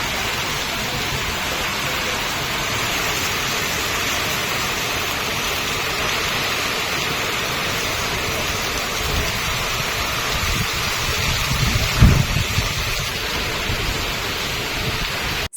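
Heavy rain falling in Belagavi, a loud, dense and continuous rushing hiss with a faint low rumble partway through, no talking.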